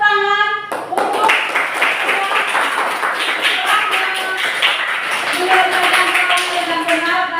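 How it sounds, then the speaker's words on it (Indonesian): Classroom applause from students rewarding group scores, a dense, continuous patter of hand claps lasting several seconds, close and lively, with a teacher's voice briefly heard at the start. "sekarang mari kita tepuk tangan"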